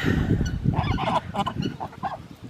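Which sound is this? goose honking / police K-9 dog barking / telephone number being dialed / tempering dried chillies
goose honking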